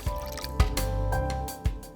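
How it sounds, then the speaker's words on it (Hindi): Water is poured into a pressure cooker with a ring set inside, making a close, continuous gurgling fill broken by a few splashy drips, with no talk. "अब इसमें हम डाल देंगे पानी. रिंग के लेवल तक हम पानी डालेंगे."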